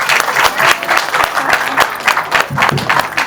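Loud applause for the family at a surprise birthday celebration: a group claps steadily and densely for about three seconds, with a few voices mixed into the clapping.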